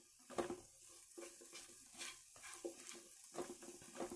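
Salted mushrooms cooking in a pan, with a quiet sizzle broken by repeated light stirring scrapes and taps of a utensil against the pan, faint and close, no talking.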